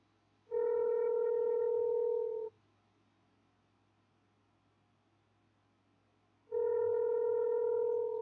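A phone call ringing through on a line with poor Arkansas service, two long steady ringback tones about two seconds each separated by roughly four seconds of quiet hum, clear and alone.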